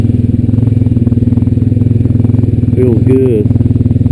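A Honda Rancher 420AT ATV engine runs steadily while riding trails, with a loud, close, pulsing mid-range drone and rattling clatter throughout as someone briefly speaks over it.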